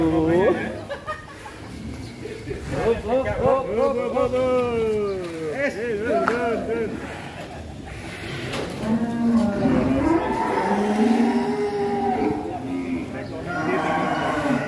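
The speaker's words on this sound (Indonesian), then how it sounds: "Sapi-sapi monster guys, ini kandangnya tingkat guys." Huge sacrificial cattle, bred for Qurban, low and moo repeatedly in a multi-level barn, their drawn-out calls close by and mixed with people chatting and chuckling nearby.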